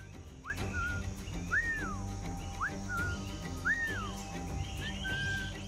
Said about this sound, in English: I will whistle to him.